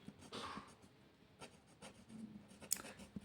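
Pen writing on paper, close and quiet, with soft scratchy strokes in short bursts and brief pauses between them.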